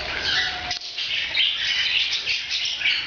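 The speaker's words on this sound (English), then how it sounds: "You see the little yellow bird up there?" A little yellow bird chirps and tweets in a quick, bright chatter close by, with a brief flutter partway through, and no voices over it.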